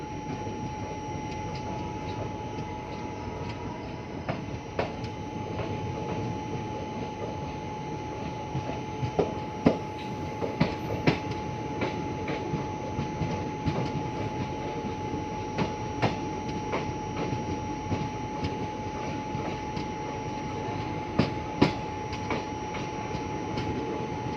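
The Sabarmati Express train runs on its rails just after departing Mohali, with a steady rumbling roar from inside the carriage and scattered clicks and clacks as the wheels pass over rail joints.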